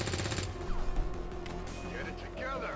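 Gunfire from the tactical strategy game XCOM 2, a loud broadband burst near the start followed by rattling mechanical impacts and game effects, with voices in the background.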